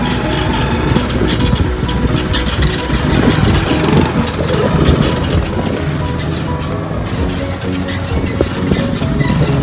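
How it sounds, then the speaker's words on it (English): A motorcycle engine runs loud and close on the streets of Karachi, a continuous rumbling drone with a steady throb and traffic noise around it. "If you want to travel quick in Karachi, you got to get on a motorcycle."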